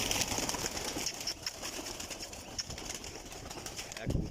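Pigeons let out of a loft by a breeder in a pigeon-keeping setup, with soft cooing and bursts of wing flapping, a steady busy mix of bird sounds lasting throughout and a louder flurry near the end.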